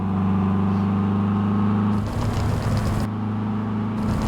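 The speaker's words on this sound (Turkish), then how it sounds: "Ya motorun sesine bak abi ya." A Volkswagen Amarok engine in Euro Truck Simulator 2 drones with a steady low hum, then shifts into a rougher, louder revving roar that dips and returns, without speech.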